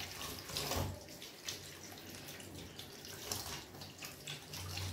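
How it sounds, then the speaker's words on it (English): Tap water runs steadily into a kitchen sink while salt is rinsed off saltfish for a Jamaican dish, a continuous close splashing flow with small surges and no talking. "I'm going to actually wash off most of the salt off the saltfish."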